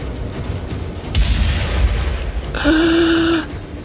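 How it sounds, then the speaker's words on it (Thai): An explosion in the Mad Max video game on PC lands as a burst of booming noise partway through, followed by a bright, sustained tonal whine, with no talking. "ระเบิดไปหนึ่งที"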